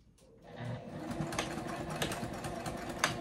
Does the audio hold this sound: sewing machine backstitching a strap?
yes